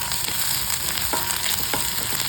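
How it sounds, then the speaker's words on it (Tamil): Onion, ginger and garlic sauté in a pan for a chicken fry, a steady loud sizzle and crackle up close with a few soft scraping stirs of a spoon, no voices. "ஓரளவுக்கு வதங்கி வரும்போது இதில் வந்து நம்ம வந்து உங்களோட இஞ்சி பத்து பல் பூண்டு நல்லா வதக்கிடுங்க"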